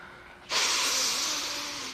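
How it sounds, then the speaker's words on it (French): A single long, loud breath drawn in or blown out, a steady airy rush lasting about a second and a half before cutting off abruptly. "Prends des grandes respirations, ça calme."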